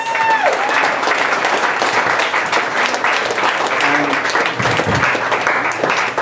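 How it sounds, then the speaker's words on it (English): Audience applause at an arts awards event as first-place winners come up, dense steady clapping throughout with a few voices and whoops mixed in. "Just some applause!"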